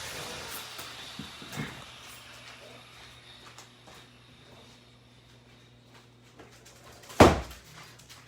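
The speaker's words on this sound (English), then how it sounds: "Hold on, let me close the door." A single sharp thud of a door being shut indoors, loud and brief near the end, after quiet room ambience with faint background noise.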